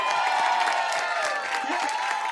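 An audience applauds loudly and steadily, cheering under the clapping for the young singer. No voice stands out.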